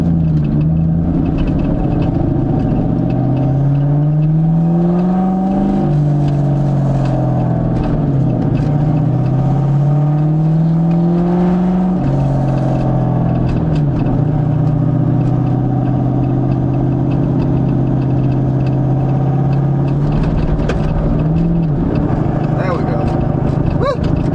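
A 2000 Ford Mustang GT engine hums steadily while driving, its pitch climbing and dropping through several gear changes across the clip, close and fairly loud inside the cabin.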